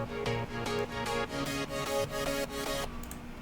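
A melodic dubstep synth pluck with its cutoff filter opened repeats in a brighter, steady sequence of about a dozen notes before a short fading tail. It plays alone at moderate volume.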